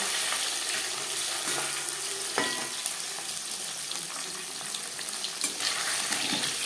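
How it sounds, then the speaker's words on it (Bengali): Constant crackling sizzle of live-caught stinging catfish frying in hot oil, close up, with a few sharp clinks of a utensil and no talking. "মাছ হালকা করে ভেজে নিয়েছি"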